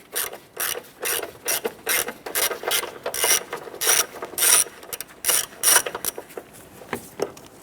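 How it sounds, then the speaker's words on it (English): An 8mm socket ratchet removes the battery hold-down bolt on a 1993-1997 Ford Ranger, a close, repeated clicking of the pawl in quick bursts with short pauses, no talking. "Using an 8mm socket and extension, we're going to go ahead and remove this bolt here."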